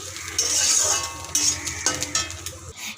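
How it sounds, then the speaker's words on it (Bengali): Pointed gourd peels frying in a pan give a steady close sizzle, broken by scraping and metallic clinks as they are stirred, with no talking. "এটা আস্তে আস্তে করে ভাজতে হবে"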